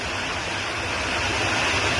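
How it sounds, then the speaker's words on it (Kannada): Heavy rain pours down steadily in Mysore, a dense, loud, unbroken hiss of falling water with no voices. "ಎಷ್ಟು ಜೋರಾಗಿ ಬರ್ತಿದೆ ಮೈಸೂರಲ್ಲಿ ಮಳೆ"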